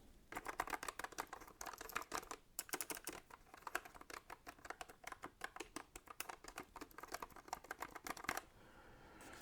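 Steady, fast typing on a JLab Epic mechanical keyboard with brown switches, a dense run of crisp key clacks heard up close, pausing briefly before the end.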